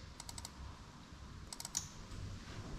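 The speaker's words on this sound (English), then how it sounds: "That's why you hear the relay going click, click, click, click, click." Quiet, sharp mechanical clicks from an engine management relay come in two quick bursts of several clicks each, separated by a pause, over a low background hum.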